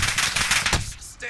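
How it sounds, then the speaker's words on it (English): Rapid automatic gunfire in a first-person shooter video game, a burst of close, loud cracking shots in quick succession, cutting off briefly before a final shot. "Shots pinging!"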